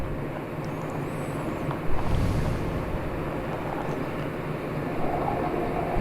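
Commercial barges pass along a canalized river, a continuous low engine rumble and water wash mixed with wind buffeting on the microphone, steady and fairly loud throughout.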